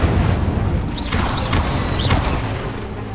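Incendio fire spells cast in the video game Hogwarts Legacy, several quick whooshing bursts with bright pops and crackles layered over a rumbling game soundtrack.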